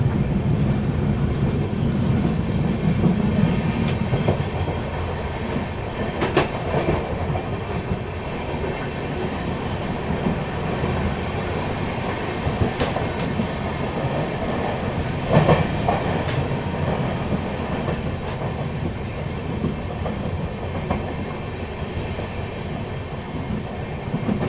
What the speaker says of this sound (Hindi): तो अभी अपनी ट्रेन स्किप कर रही है बंदीकुई जंक्शन